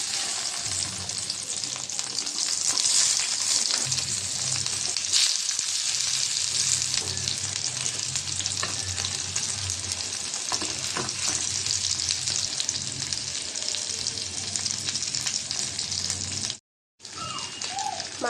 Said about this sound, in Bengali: তেলটা গরম হয়ে গেছে, এখন মাছ দিয়ে দেব।